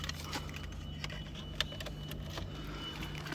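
A set of 2016 VW Polo 1.2 TSI Match car keys jangle close by, a brief run of light metallic clinks over a steady low hum, with no voices.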